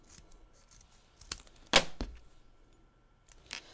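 Scissors snip through craft paper for a pop-dot layered piece, a few quick crisp cuts with one loud sharp snip in the middle, close and alone without talk.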